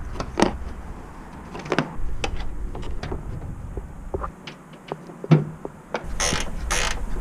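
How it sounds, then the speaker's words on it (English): A ratchet spanner clicks and creaks in short bursts while working on a Jeep Wrangler during an aftermarket hood install, close and fairly quiet, with no talking. "These are the best ratchet spanners"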